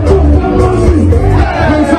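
A dense, loud crowd at a DJ event in Ghana roars with excitement, with overlapping shouts and whoops that blur into a continuous close-up babble of voices.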